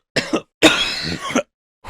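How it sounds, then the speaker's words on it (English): Two bursts of harsh coughing close by, a short double cough followed by a longer, rougher hacking fit, with silence between. "Whew, coughed up there"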